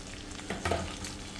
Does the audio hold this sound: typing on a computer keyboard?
no